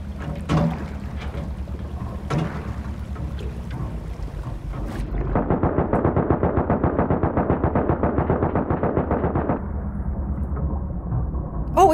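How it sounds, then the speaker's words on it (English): Torpedoes fired at a tugboat in the video game Rust, heard as sharp distant bursts and then a dense rapid rattling barrage over wind and water noise. "is someone firing torpedoes at me?"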